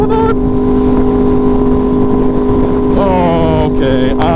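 An Aprilia Tuono V4 motorcycle engine running loud and close, holding a steady droning idle before revving up sharply near the end.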